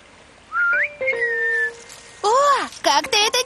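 A person whistles through pursed lips to mimic the wind, a voice imitating the sound with a rising glide, a long sustained tone, then swooping and wavering whistles in short bursts, close and clear.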